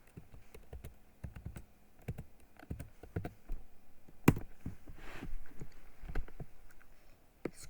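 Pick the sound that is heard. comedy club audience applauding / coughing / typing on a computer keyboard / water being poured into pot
typing on a computer keyboard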